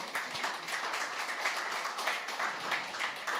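A crowd applauds at a tech talk meetup, with steady, dense clapping that holds evenly at a moderate level for a few seconds with no voices over it.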